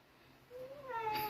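A cat meows at night, one close, drawn-out rising call that swells louder toward the end, heard alone in a quiet room.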